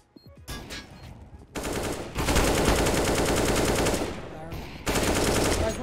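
Automatic gunfire in a competitive shooting video game, with a few sharp single shots followed by long dense bursts of rapid fire, loud and close, briefly pausing before another burst.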